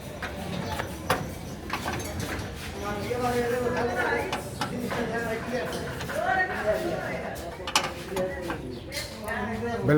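Metal parts of a 120 kVAR power factor improvement capacitor panel are tightened with repeated ratcheting clicks and clanks from tools, irregular and close, while several people talk over the work.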